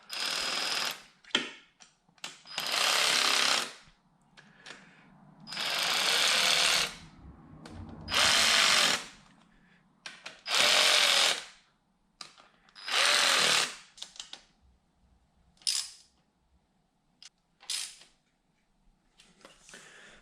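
A power tool whirs in repeated short bursts of a few seconds each, close and loud with quiet gaps between, during a valve adjustment on a Yamaha R6 motorcycle.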